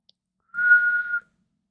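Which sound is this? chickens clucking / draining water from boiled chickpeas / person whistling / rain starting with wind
person whistling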